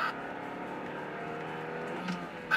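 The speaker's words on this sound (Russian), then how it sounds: "Теперь давайте проверим, как терминал реагирует на резкое ускорение." A car accelerating hard during a driving test, heard as a steady close engine drone with a gradually rising whine that swells at the end, with no talking.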